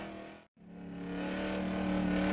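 A street stock race car on a qualifying lap at Boomtown Speedway, its engine note rising steadily after a brief dropout as it accelerates and draws nearer, growing louder to the end.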